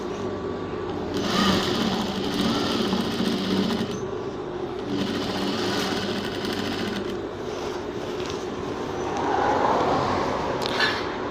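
A sewing machine stitches fabric in a tailoring shop, giving a rapid, even mechanical chatter in several bursts with short pauses between them, and soft speech and handling noises underneath.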